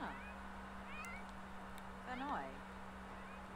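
A cat meows in The Sims 4, a few short rising game meows with one clearer cry near the end, over a steady low electronic hum with faint background voices.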